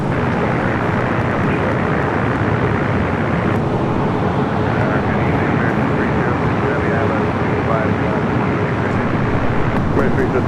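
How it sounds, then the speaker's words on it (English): French Bee Airbus A350-900 rolling down runway 24 left at Los Angeles airport, a loud, steady broadband jet roar filling the whole stretch without letup, with faint radio chatter layered in. "French Bay rolling down at 24 left. Heading to Paris Orly, that A350-900."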